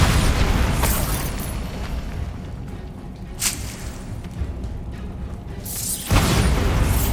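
Bombarda blasting spell in the game Hogwarts Legacy, a dense rumbling burst with crackling debris over a steady boomy game soundscape, a sharper hit near the middle and another loud surge toward the end.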